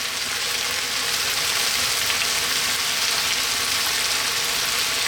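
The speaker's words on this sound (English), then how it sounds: "Let's drop those olives in." Olives dropped into a hot pan while making a one-pan creamy garlic chicken and potato dish, producing a steady, even hiss of sizzling oil that holds at a constant level throughout.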